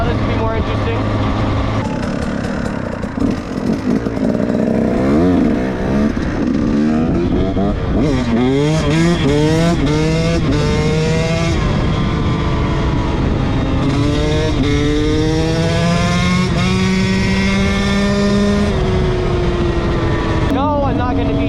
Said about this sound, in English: I'm going to practice just some wheelies today.